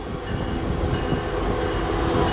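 An eastbound Union Pacific freight train rumbles past steadily and loudly at close range, a continuous heavy roll of wheels and cars with no voices.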